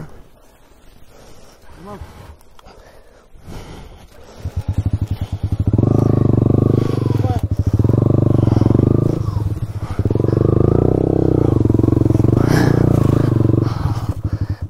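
A small engine revs up loudly and holds a steady drone in long bursts, with brief dips between, after a quieter stretch with some voices at the start.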